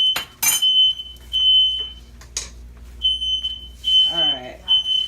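Kitchen smoke detector going off while chile rellenos with red sauce are cooked, a loud piercing beep repeating in bursts amid clattering pans and a person talking.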